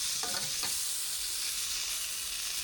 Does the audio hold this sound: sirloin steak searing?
yes